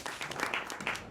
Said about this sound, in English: Give another round of applause for our host, Benny Lamp, everybody.